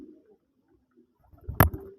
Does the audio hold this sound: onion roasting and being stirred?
no